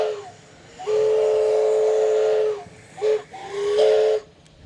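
A steam train whistle at a ranch farm-equipment show blows loud and sustained, then a short toot and another long blast, with hissing steam around it.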